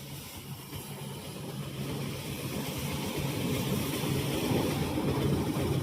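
Water sprays hard against a tractor at a roadside wash on a highway, a broad steady hiss and rush that grows louder over the stretch, with no talking.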